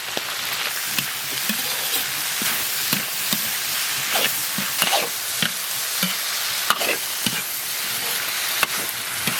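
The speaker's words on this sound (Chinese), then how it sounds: "下入切好的配菜：蒜苗、洋葱、红辣子。" Lamb liver stir-fries with garlic sprouts, onion and red chili in a wok, a continuous sizzle broken by regular scraping stirs and clatters, close and fairly loud, with no voices.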